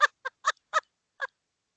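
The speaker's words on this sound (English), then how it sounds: "Bird." Five short, bright honking bird calls come in an uneven rhythm, each clear and close, with silence between them and no other sound.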